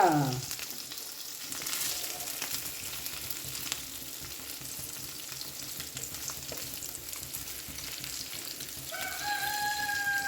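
Red snapper (chempalli) pieces fry in a pan with a continuous close sizzle and crackle, a sharper burst at the start as the fish is flipped over, and a faint rooster crowing in the background.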